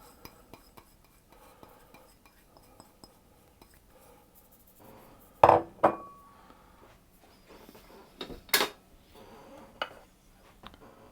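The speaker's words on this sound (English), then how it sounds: "we'll start off by creaming the butter and the demerara sugar together" Butter and demerara sugar being creamed in a bowl: quiet scraping and stirring, then a few sharp clinks of a utensil against the bowl, close and sparse.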